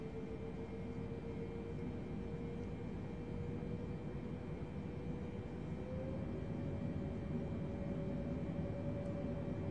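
An airliner's engines spool up in a flight simulator game during taxiing, a steady droning hum with a tone that climbs slightly partway through, continuous and unaccompanied by speech.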